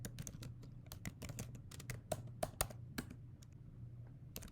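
Rapid, uneven keystrokes on a computer keyboard as Linux commands are typed, with steady close clicks and a few louder taps over a low background hum, no talking.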